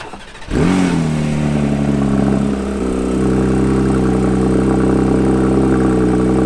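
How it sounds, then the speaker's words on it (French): A Porsche 992 GT3 flat-six fires up with a sharp starter bark, flares loudly, then settles into a strong, steady, close idle hum. "le flat 6 il chante bien, même à bas régime au démarrage, une fois les clapets ouverts"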